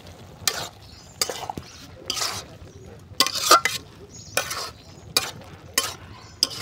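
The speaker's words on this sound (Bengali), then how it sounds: "এখন আমার মা দারচিনি দিয়ে লাড়াচাড়া করে নিচ্ছে।" A spoon scrapes and stirs cabbage and fish-head curry with cinnamon in a pan, making about a dozen sharp, rhythmic strokes over a soft background sizzle.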